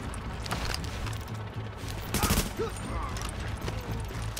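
Shotgun fire in the video game The Division: sharp shots scattered through a noisy firefight, with one louder burst near the middle, under steady game ambience.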